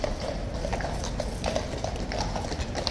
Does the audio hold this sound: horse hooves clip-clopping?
yes